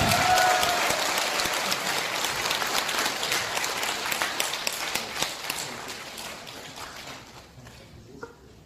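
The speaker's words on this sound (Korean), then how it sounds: "여러분 큰 박수로 환영해 주시기 바랍니다." An audience at a political policy seminar breaks into loud applause that gradually thins out, individual claps becoming more distinct as it fades toward near silence at the end.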